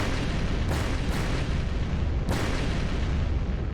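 Explosions in a visual novel video game sound as a constant heavy rumbling roar, with a few sharper blasts breaking through the steady low din, loud and enveloping.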